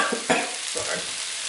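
Fresh garlic from a jar frying in a pan for ratatouille, a steady broadband sizzle with a few scraping stirs near the start, close and fairly loud, no talk.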